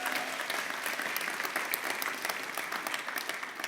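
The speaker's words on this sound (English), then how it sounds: "Let's give a big round of applause for Roy." An audience at a fishing hall of fame induction ceremony applauds, a dense, steady clapping of many hands that fills the room without a break.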